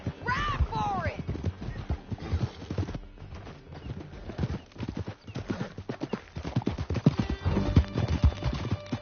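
Horses galloping in the western game Red Dead Redemption 2: steady, close hoofbeats clip-clopping throughout, with a whinny near the start and voices talking over the ride.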